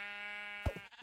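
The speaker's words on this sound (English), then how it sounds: "Alright, let's kill the sheep." A single short Minecraft sheep bleat as the animal is struck, sounding after a steady electronic tone, close and clear with no speech.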